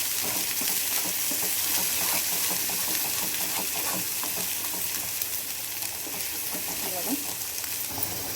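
Tomato-onion masala paste fries in oil with a steady, close sizzle while it is stirred, and soft scraping and bubbling run throughout.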